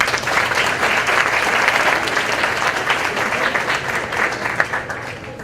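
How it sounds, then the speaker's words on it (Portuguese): A conference audience claps for an incoming speaker, a dense, steady burst of applause that holds for several seconds and slowly thins toward the end. "Aplauso, por favor."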